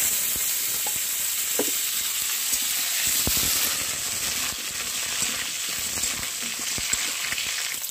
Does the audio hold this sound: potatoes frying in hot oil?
yes